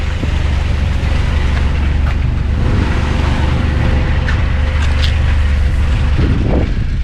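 A Nissan D21 pickup truck engine idles outdoors in a steady, loud, low rumble that never stops, with some wind buffeting and faint background noises on top.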